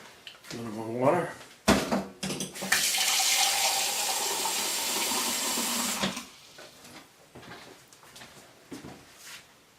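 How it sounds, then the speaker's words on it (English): Tap water runs into a jar to top up brine for fermented pickles, a steady, close rushing flow for about three seconds, framed by brief handling clatter and a person talking before and after. "A little more water."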